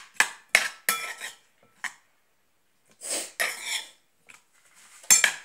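Food being stirred in a pan, a few sharp scraping and clattering strokes of a utensil against the pan in separate bursts, with quiet gaps between.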